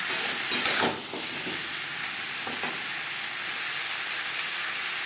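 Potatoes are stirred with salt and turmeric in a hot pan, giving a steady sizzling hiss throughout with a couple of brief clinks and scrapes of stirring near the start.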